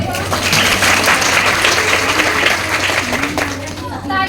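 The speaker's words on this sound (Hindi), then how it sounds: "एक बार तालियां।" A seated audience claps steadily and loudly at a talk, a dense wash of applause running throughout with a low steady hum beneath and a voice surfacing briefly near the end.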